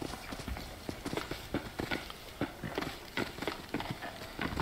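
Horse hooves clip-clop in a brisk, steady rhythm in the Red Dead Redemption video game, with sharp, close impacts and no voices over them.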